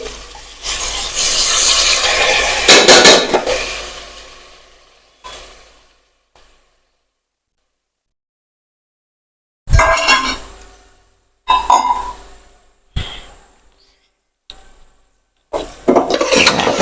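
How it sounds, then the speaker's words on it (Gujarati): Washed rice poured into oil in a pot for khara bhat, a loud sustained rush and rasp of grains tumbling in, then scattered clinks and scrapes of a utensil against the pot after a silent pause. "હવે આપણે તેમાં ભાત નાખી દઈશું"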